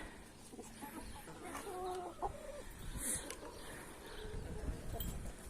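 Chickens cluck softly on and off over a steady outdoor background, with an occasional brighter chirp standing out.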